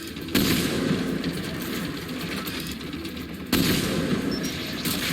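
Mounted turret gunfire in Mass Effect 3 makes a dense, continuous rattling roar, cutting in abruptly and holding steady for several seconds at close range.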